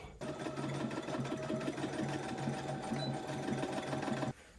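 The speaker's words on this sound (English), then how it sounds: "we can sew it together and secure it" Sewing machine stitching elastic on a summer dress, running at a steady clip with a continuous rhythmic whir for about four seconds, close and clear, then stopping abruptly.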